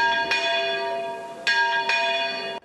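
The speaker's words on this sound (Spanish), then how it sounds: "Mientras las campanas siguen pregonando el enlace entre Pedro e Isabel" Church bells ring in three clear strikes during a medieval festival in Teruel, Spain, each leaving a bright, lingering metallic hum that fills the space, loud and close with no voices.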